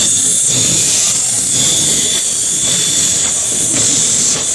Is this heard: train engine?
yes